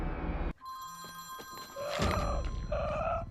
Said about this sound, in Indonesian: namun tiba-tiba ponsel Rudi pakai berdering segala